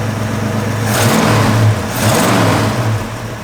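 The engine of a 1965 Ford Falcon convertible runs close by, its revs rising and falling in a smooth, steady rumble.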